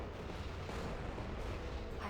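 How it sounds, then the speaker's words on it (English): Hypervelocity cannon fire in a Star Wars space-battle strategy game, a steady low rumbling boom of artillery-like blasts filling the whole stretch at moderate level with no clear breaks. "Hypervelocity cannon firing."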